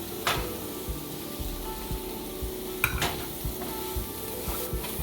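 Prawns and capsicum fry in a pan with a steady, close sizzle, punctuated by regular scrapes and knocks of a utensil stirring them, with no voices.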